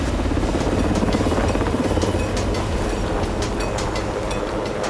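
A large, heavy helicopter flies over the Anjuman mountain pass in Afghanistan at about 4,500 metres. Its rotor and engine make a loud, steady roar with a dense, thudding low rumble, and no one speaks.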